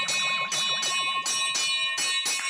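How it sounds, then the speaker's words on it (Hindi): A new temple bell rings over and over during aarti, struck in quick, steady succession about twice a second. Each loud, close, bright metallic clang rings on into the next, with no voices. "अरे मंदिर की घंटी है भाई, कोई फायर ब्रिगेड की घंटी नहीं है कि लगातार बजाए जा रहे हो?"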